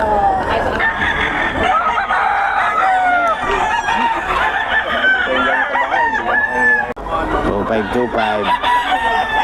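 A solid white Kelso rooster crows loudly and repeatedly at close range, its calls mixed with clucking from other fowl at a busy market, while someone speaks briefly.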